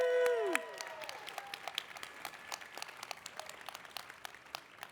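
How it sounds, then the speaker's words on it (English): Audience applause at a youth coding pitch competition, a few scattered claps continuing after a tone fades at the start, fairly faint and sparse, as though from a mid-sized room. "Let's give another applause for Lawton,"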